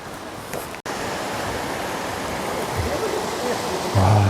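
A constant roar of rushing water from Yongchu Falls at Juwangsan, Cheongsong, close by, fills the scene at a steady level, with a brief cut early on.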